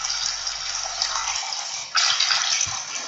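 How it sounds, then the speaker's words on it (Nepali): A hand stirs and splashes water, making a continuous hissing slosh. It swells a little louder partway through and has a few soft knocks underneath. "यो पानी हो क्या मैले चलाइरहेको छु नि"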